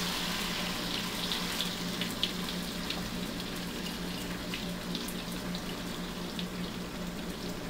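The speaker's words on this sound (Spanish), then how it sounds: "Yo recomiendo agregar un poco de agua al frasco para poder limpiar todo muy bien." Tap water runs steadily into an empty sauce jar, a continuous close hiss with light splashy pops throughout and no talking.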